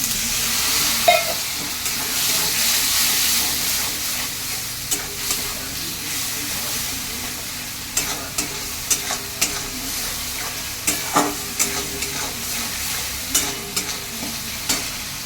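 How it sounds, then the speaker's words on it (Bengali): Chana masala spices fry in a pan with a splash of water, a continuous close sizzle broken by repeated scraping strokes of a spoon stirring them. "মশলাটা আমার একটু ভাজা ভাজা হয়ে গেছে।"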